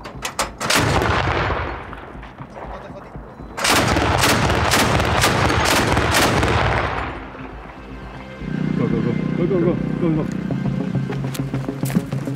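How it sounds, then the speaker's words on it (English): Gunfire and whistling sniper rounds near an ISIS position in Baghouz, Syria: loud, sharp rapid bursts of shots in clusters, with voices talking in between and under the firing. "You can hear the sniper rounds whistling past. There's a lot of gunfire still."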